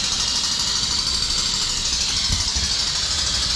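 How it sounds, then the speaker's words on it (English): Air pump running steadily while pumping fuel beside a broken-down dozer on a coal pile, a loud, constant mechanical hiss and hum with a low engine-like rumble beneath. "All right, we got the air pump up here, it's pumping."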